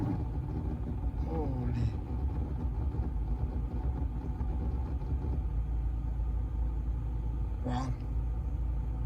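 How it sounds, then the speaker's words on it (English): A faulty car blower motor runs noisily with a steady, loud rumbling whir that holds throughout, while a person briefly exclaims over it. "I can just turn on here and we can hear the blower."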